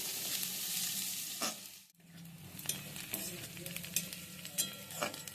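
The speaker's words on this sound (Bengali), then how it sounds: "এগুলোকেও আমি ভালো করে ভেজে নিচ্ছি" Chopped onion and green chillies, cooked with garlic and ginger, are fried and stirred in oil with a soft, continuous sizzle. Irregular scrapes and taps of a spoon come through, and the sound briefly drops out near the middle.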